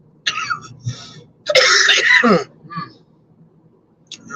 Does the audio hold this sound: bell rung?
no